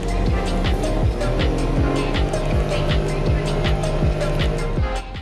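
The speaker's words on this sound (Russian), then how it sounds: "не так шумно, как я ожидал. И вибраций я особо не чувствую, хотя здесь обыкновенный трехцилиндровый дайхатсовский мотор" Daihatsu Move with an ordinary three-cylinder engine heard while driving, a steady engine drone with road noise and a regular series of thumps as the tyres pass over bumps.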